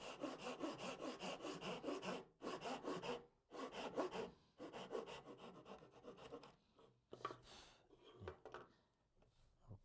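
Hand saw cutting wood for a three-way miter joint, with rapid, close back-and-forth strokes in bursts separated by short pauses and slowing toward the end.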